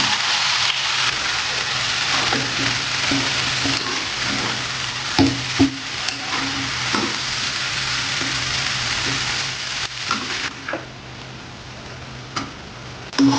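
Grated pumpkin sizzles steadily in ghee in a pan, a dense crackling hiss broken by scattered taps and scrapes as a spoon stirs it, close and continuous throughout.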